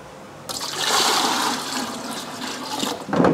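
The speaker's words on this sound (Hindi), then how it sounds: "ये वाटर ऐड कर देंगे इसमें।" Water pours into a commercial drink-making machine, a steady gushing splash that starts abruptly, runs for about two and a half seconds, and ends with a short louder burst, close by with no talking.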